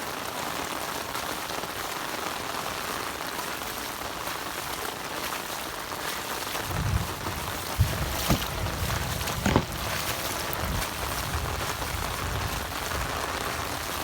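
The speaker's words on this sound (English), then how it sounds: "The lightning is getting worse, the rain is getting heavier" Heavy rain pours steadily during a backyard flood in a lightning storm, a dense constant hiss with a few sharper splashes and low rumbles in the second half.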